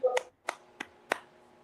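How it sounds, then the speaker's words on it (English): A cheerleader-style clap made by one person: four sharp, quiet hand claps spaced evenly apart in a small, still room. "I did my cheerleader clap"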